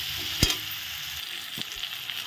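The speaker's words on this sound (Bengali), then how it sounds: "দিয়ে দিলাম হলুদ লবণ দিয়ে ভালো করে আলুটা এখন ভেজে নেবো লাল লাল করে" Potato pieces frying in oil with turmeric and salt, a close, even sizzle broken by a sharp utensil knock and a few lighter scrapes, no voices.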